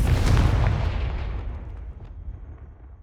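The Confringo blasting spell in Hogwarts Legacy explodes with a single deep, loud boom that rumbles and fades away over a few seconds.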